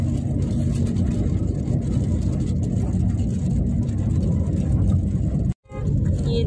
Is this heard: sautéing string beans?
no